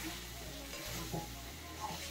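Ginger and garlic frying in a pan give a steady, close sizzle, with a spoon stirring through them and scraping lightly at the bottom.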